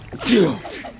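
A single sneeze bursts out, sharp and close, with a breathy hiss followed by a short voiced tail, over faint background room sound during a Metal Gear Acid game session.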